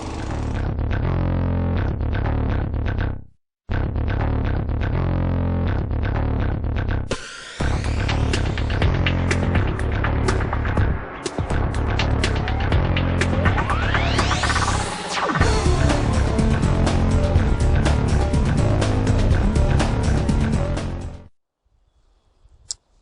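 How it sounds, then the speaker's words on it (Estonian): Garden rotary tiller churning into soil, its engine running with a loud steady throbbing drone and grinding texture, briefly cutting out twice and swelling as it digs deeper, close and continuous with no talking. "Kui me tahame teda sügavamale kaevata, siis me lihtsalt vajutame sügavamale alla ja masin kaevab sisse."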